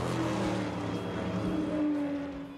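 Shelby Cobra race car running on the track at Lime Rock, Connecticut, a steady loud engine drone with a gentle pitch shift as it carries through the clip, no talk.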